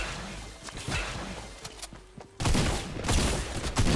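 Gunfire bursts in the Fortnite Battle Royale video game, sharp loud cracks with a dense, heavy blast near the middle followed by more shots.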